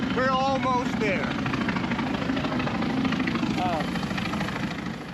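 An F-4 Phantom jet engine runs on the ground with a loud, continuous roar and whine, while voices talk over the noise.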